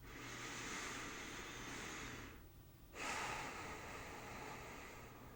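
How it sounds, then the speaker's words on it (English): A person slowly breathes in and out, one long inhale and exhale after another with a brief pause between, soft and close with no talking. "join me in taking 3 nice deep breaths"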